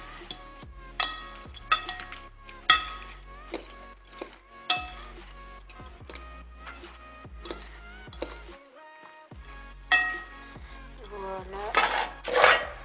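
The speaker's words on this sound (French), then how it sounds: "moi je vais prendre une deuxième fourchette et on mélange le tout" Two forks toss carbonara pasta in a dish, producing sharp metallic clinks and scrapes in an uneven rhythm, close and clear with quiet gaps between strokes.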